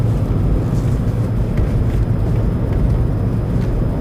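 An Audi A2's engine drones steadily and loudly from inside while driving on country roads, a dense low rumble with wind noise and no break for the whole stretch.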